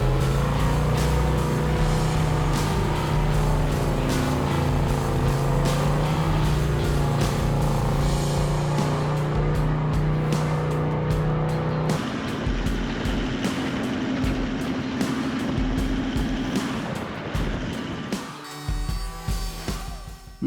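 Toyota Land Cruiser 79 series V8 with an upgraded exhaust, a loud continuous engine drone that rises and shifts in pitch as it revs, close and steady with no talking.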